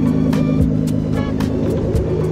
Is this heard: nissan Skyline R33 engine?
yes